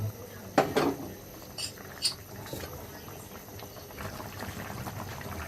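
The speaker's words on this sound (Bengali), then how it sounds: "বলক চলে আসছে" A pot of chicken curry with new potatoes, chicken feet, liver and roasted cumin powder comes to a boil, giving a soft, steady bubbling with a few sharper pops and clinks near the start.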